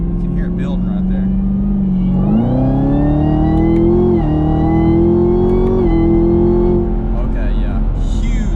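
Supercharged Chevrolet ZL1 Camaro with a new cold air intake revs up under load, engine note climbing in steps with a rising supercharger whine on top, loud and close, with someone talking over it.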